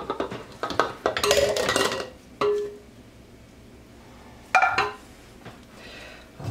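Pot lids and dishes clink and clatter as they are handled in a kitchen, with a cluster of bright metallic knocks early on, then a couple of isolated rings.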